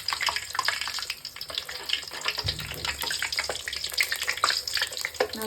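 Athirasam sweets frying in hot oil at home: a dense, loud bubbling crackle with constant spitting and popping, close by and continuous, with a brief low thump partway through.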